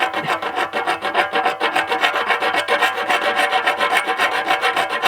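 A knife being sharpened without a sharpening stone, with steady rhythmic rasping strokes scraping back and forth, close and fairly loud, and no talking.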